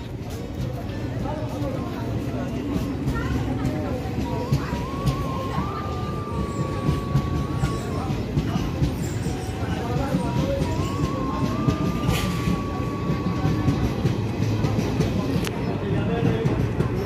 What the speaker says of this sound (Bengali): ট্রেনটা চলে গেল, আমরা পৌঁছে গেলাম।